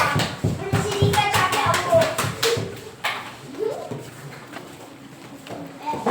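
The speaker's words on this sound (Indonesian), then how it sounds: "tepuk tangan buat anak ibu." Third-grade children in a classroom clap their hands together in a quick, rhythmic burst that then fades, leaving scattered young voices chattering.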